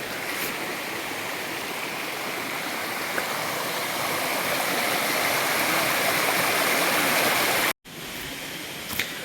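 A flowing stream in Tamil Nadu rushes steadily and loudly, a dense continuous water roar close by, with a brief dropout near the end before the flow resumes.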